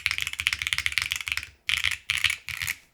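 Fast typing on a custom Hall effect mechanical keyboard, crisp close-up clacks in quick bursts with brief pauses between runs, no talking.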